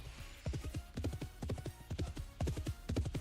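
Horse hooves clip-clopping in the game 7 Days to Die, a rapid repeating trot of hoofbeats in irregular bursts, close and fairly loud with no talk over it.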